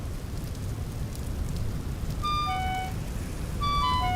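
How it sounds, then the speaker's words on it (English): Steady rain hisses across the whole stretch in a building video game, with short bright tonal chimes sounding twice near the end. "it's raining, so my torches will go out"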